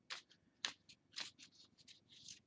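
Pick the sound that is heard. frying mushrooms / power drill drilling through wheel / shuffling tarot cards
shuffling tarot cards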